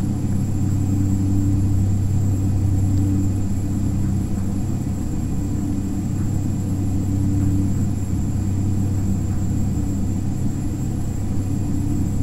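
Steady low turboprop drone from a Beechcraft 1900D taxiing in X-Plane 10, a constant rumble with a faint high tone, unchanging throughout.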